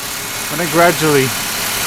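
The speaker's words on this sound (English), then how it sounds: "if I suddenly hit it hard like this, you can hear this car kind of freaking out." A 2001 Ford Mustang with a 3.8 engine suffering a misfire revs under sudden hard throttle, a brief rising, uneven engine surge that falls back to idle, heard close and loud.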